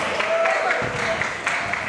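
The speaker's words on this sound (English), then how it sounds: "Give Nicole a round of applause" Concert audience at a wind ensemble's video game music show applauds steadily, a dense wash of clapping sustained throughout at moderate loudness with scattered sharper claps.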